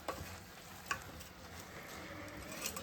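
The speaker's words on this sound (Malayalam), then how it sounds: "ശർക്കര പാനിനകത്ത് അവലിട്ട് ഇനി മിക്സ് ചെയ്യുക." Beaten rice flakes are stirred into jaggery syrup in a pan, a soft steady sizzle and scraping with a few faint ticks of the spoon, quiet and close.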